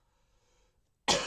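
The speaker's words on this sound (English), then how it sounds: "excuse the coughing" A single burst of harsh coughing from a person recording a review, loud and close, after about a second of near silence.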